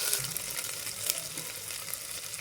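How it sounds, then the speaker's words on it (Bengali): Spices frying in a pan with a little water while cooking Bengali pea ghugni, a steady close hiss and sizzle running the whole time with no talk. "মশলাটা ভালো করে কষিয়ে নেব"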